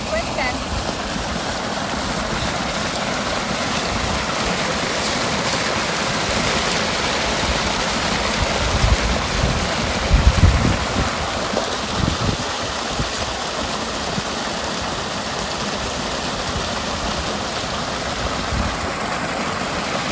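Pumped irrigation water rushes steadily through a channel in a village field, with a low engine hum running underneath throughout and voices talking intermittently over it.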